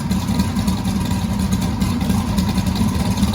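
A twin-turbo LS V8 with a big cam idles with a deep, rumbling, slightly lumpy throb, steady and close, with no voices.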